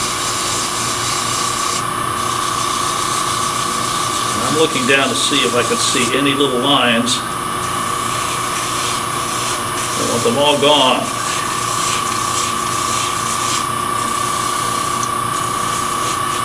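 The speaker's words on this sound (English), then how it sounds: "Do a little sanding." Steady whirring of a lathe with the hiss of 180-grit sandpaper against spinning acrylic, under a voice speaking briefly.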